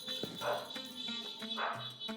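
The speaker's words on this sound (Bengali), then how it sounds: "কুকুরের কাজই তো ডাকাডাকি করে।" A dog gives a couple of short, moderately distant barks about a second apart, set against a steady tonal background hum.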